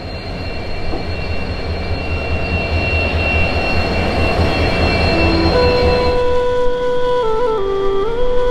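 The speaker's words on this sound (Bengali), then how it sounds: "তো আমাদের ট্রেন চলে এসছে ফাইনালি। এই যে আমাদের ট্রেন," A train pulls into a station with a loud, steady rolling rumble. Sustained metallic wheel squeals rise and shift in pitch over the last few seconds as it slows.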